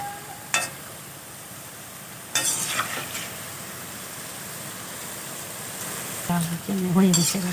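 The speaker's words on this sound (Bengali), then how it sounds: "আমি এগুলোকে আরও একটু লাল লাল করে ভেজে নেব" Palm fruit fritters frying in hot oil give a constant, fairly loud sizzle, broken by a few sharp scrapes and clinks of a utensil, with a voice speaking briefly near the end.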